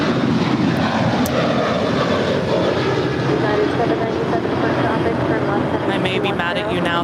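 A Finnair airliner taxiing at LAX produces a loud, steady jet engine roar that rumbles on throughout, with a voice talking faintly underneath.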